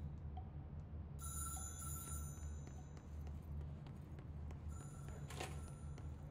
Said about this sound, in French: Ça sonne là ? Ah oui, regardez, il y a le téléphone là !